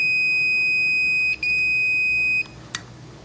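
A multimeter in continuity mode beeps steadily while a contactor is pressed by hand, one continuous high tone lasting over a second, a brief break, then the tone resumes before stopping, followed by a short click.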